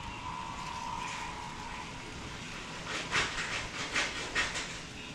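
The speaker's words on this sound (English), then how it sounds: "We got the water boiling." Water boiling in a pot for ravioli, a steady hissing rumble with bursts of bubbling and roiling in the latter half, heard up close without talking.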